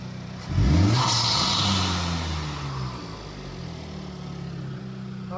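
A 2025 Honda Civic Type R FL5 with a PRL intake gives one quick loud rev that climbs and then sinks back to a steady idle, recorded close to the car with no talking.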